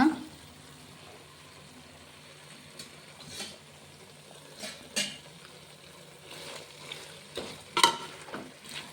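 Mangalorean chicken sukka with grated coconut stirred and fried in a pan, soft sizzling with scattered spoon scrapes and clinks against the pan at uneven intervals, fairly quiet and close.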